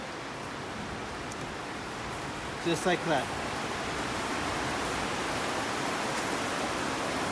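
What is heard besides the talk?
heavy rain pouring down outdoors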